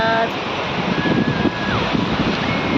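Sea waves at Dahanu beach wash in as a broad surf roar with gusting wind buffeting the microphone, and a person briefly talks over it.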